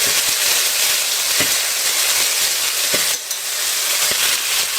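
Meatballs fry in a pan with a steady, close sizzling hiss that runs throughout, broken by a few soft clicks and taps of turning.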